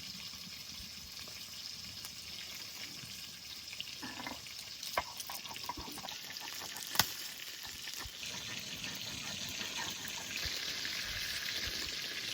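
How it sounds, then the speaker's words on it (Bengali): A hilsa fish head fries in oil with a steady, fairly quiet sizzle, broken now and then by a few scraping stirs and light clicks from the pan. "মাছের মাথাটা ভাজা হয়ে গেছে, এবার তুলে নেবো।"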